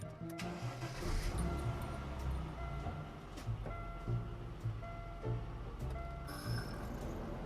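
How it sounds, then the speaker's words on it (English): An Aston Martin DB7 with a leaking air-conditioning system cranks and starts, then settles into a low, rumbling idle. The sound is faint and distant, with a few clicks and knocks around it. "I want you to start the car"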